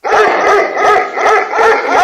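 A dog barks loudly and close in a steady run of repeated woofs, some breaking into whiny yips, with no speech over the barking.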